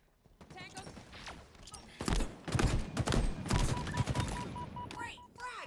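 A Halo video game firefight, with rapid bursts of gunfire and explosions building to a dense, sustained barrage, interspersed with electronic tones.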